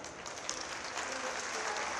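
A large crowd applauding during a religious speech by Dhirendra Shastri, dense, even clapping heard from a distance that swells slightly toward the end, with some crowd murmur mixed in.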